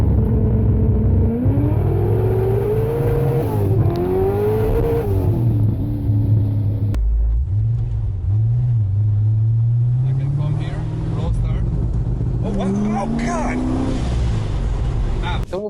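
A tuned car's engine is held on its roll-start launch function while rolling, droning at a steady held rev with pitch swells, then cutting briefly and climbing again as the revs rise.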